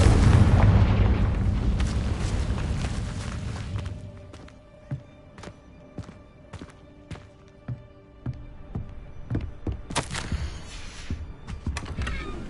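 A Confringo explosion spell in Hogwarts Legacy: a loud, rumbling blast that fades over a few seconds, followed by scattered footsteps and sharp clicks and taps.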